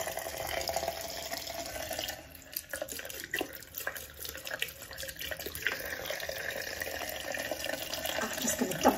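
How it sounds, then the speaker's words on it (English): A hot water tap runs steadily into a sink while a cleaning brush is rinsed under the stream, close and continuous with splashing changes as the brush moves through the flow. "let me just get the hot tap on, I just ran it under the tap."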